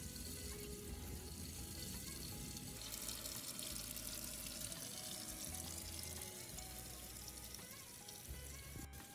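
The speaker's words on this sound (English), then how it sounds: "Rinse your parsley and green onions under cool running water to remove dirt." Parsley and green onions rinsed under a cool running kitchen tap, a steady close splashing stream of water hitting the herbs and sink, continuous throughout with no voices.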